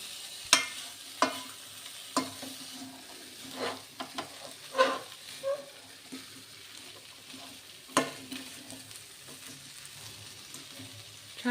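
Mixed vegetables including brinjal sauté in a pan for Bhogi bhaji, with a soft steady sizzle broken by sharp spatula scrapes and stirring knocks at irregular intervals, close and fairly quiet, with no talking.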